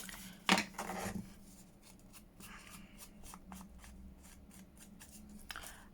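Scissors cutting out paper shapes, a quiet, close series of short snips and rustles, with one louder crinkle near the start and steady light snipping afterward.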